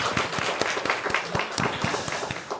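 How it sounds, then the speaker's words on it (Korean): A church congregation at a Sunday service claps together, a steady patter of hands close by for a couple of seconds. "우리 박수 한번 하겠습니다"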